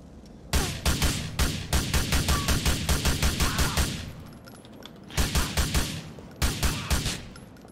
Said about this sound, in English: Somebody's shooting at me, and they're right here.